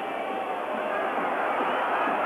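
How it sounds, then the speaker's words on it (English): A large football stadium crowd at the 1986 World Cup match between Argentina and Italy, whistling in displeasure. It comes as a continuous dense roar of whistles and noise that stays loud and even throughout. "And the entire crowd whistling their displeasure."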